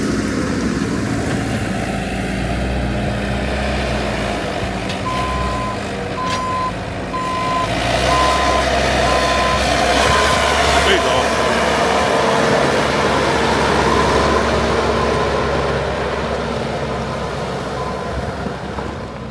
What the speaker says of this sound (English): Poor old loader's bottoming out.